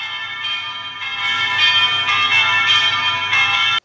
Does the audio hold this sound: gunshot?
no